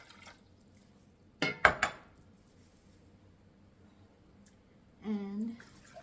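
Filtered water is poured into a pot for pickling cauliflower: a couple of sharp clinks of the vessel, then a short, rising-pitched pour lasting about half a second in an otherwise quiet kitchen.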